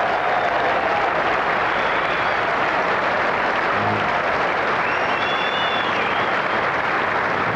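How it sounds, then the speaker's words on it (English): A large cricket crowd at a 1992 World Cup match between Pakistan and England applauds a fielding play, sustained even clapping filling the stadium throughout. "A very appreciative crowd."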